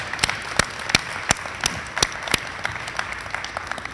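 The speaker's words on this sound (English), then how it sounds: "How about giving a round of applause to family members?" Applause for family members of service members at a community college veterans tribute: a sparse audience claps steadily, with sharp individual claps standing out in a loose, repeating rhythm, fairly close and with no talking.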